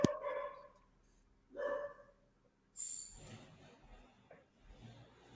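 A dog barks in the background during a live social broadcast, a few separate barks spread over several seconds, fairly faint amid room noise.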